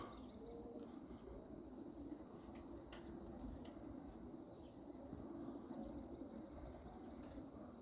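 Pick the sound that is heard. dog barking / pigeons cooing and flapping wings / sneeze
pigeons cooing and flapping wings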